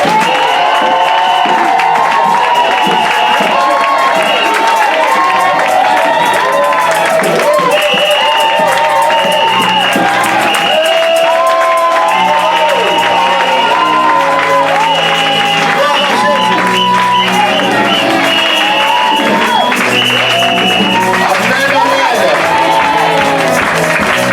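Church congregation at a worship service loudly cheering, shouting and whooping with joy, a dense sustained roar of many voices with scattered clapping, sometimes mixed with speech.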